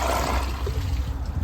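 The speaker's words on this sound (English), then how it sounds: "I give the toilet a first flush" A Costco WaterRidge dual flush toilet flushes with a steady rush of water and gurgling swirl, close and loud throughout the short stretch.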